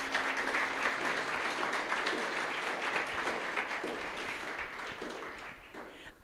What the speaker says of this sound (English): please join me in a round of applause for all those folks